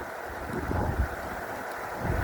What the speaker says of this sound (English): It is just so windy.